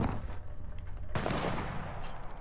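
Gunfire in a multiplayer video game team deathmatch: a scatter of distant shots followed by one sharp, loud crack from a sniper rifle, with further faint reports trailing after.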